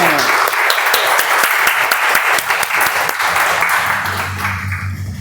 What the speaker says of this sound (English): Let's give a round of applause to Toastmaster of the day, Madhu, to keep us engaging.